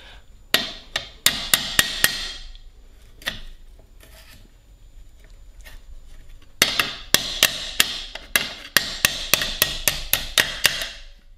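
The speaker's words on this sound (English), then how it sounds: "A little touch of the hammer" A hammer taps a brake pin through its bore, two bursts of sharp metallic strikes, a quick run of about six blows, a pause with a few stray knocks, then a longer steady series, close and alone.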